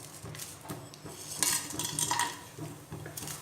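Whole spices stirred in hot oil inside a pressure cooker: a metal spoon scrapes and clinks against the pot in irregular strokes, with a faint sizzle underneath.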